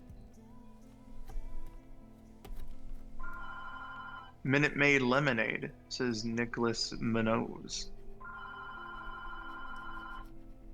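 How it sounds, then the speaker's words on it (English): Telephone ringing in short repeated tone bursts at moderate level, with a person speaking briefly between the rings. "That's my phone."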